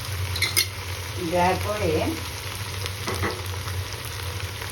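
Ghee sizzles in a pan of cooking jackfruit with a constant close frying hiss. Occasional stirring scrapes come through, and someone speaks briefly over it.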